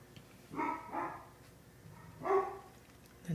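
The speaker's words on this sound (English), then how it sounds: "my dog's going crazy" A dog barking at someone at the door, three or four sharp barks in two quick bursts, moderately close in a quiet room.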